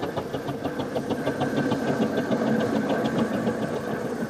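Steam engine running with worn pistons, a rapid steady mechanical chugging beat throughout, loud and close with no talk.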